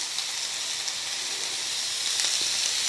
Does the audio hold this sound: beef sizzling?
yes